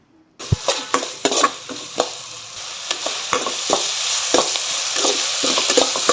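Onion, green chili and garlic fry in a pan with a steady bright sizzle, broken by repeated scrapes and clinks of a spoon stirring against the metal, close and fairly loud with no talking.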